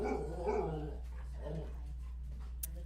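A pet dog lets out a few short growling barks and whimpering noises close by, over a steady low hum, with a faint click at the end.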